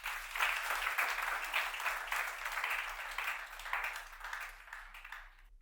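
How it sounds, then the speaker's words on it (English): A conference audience claps for a speaker, a fairly faint but continuous patter of many hands that rises and falls slightly before stopping abruptly. "can we clap for him again?"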